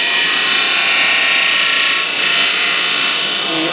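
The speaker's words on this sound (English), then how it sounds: "just rock that against that 12-inch disc sander" A 12-inch disc sander grinding a wooden workpiece rocked against its fresh disc, a loud, steady high-pitched whirring rasp that holds throughout with a brief dip midway.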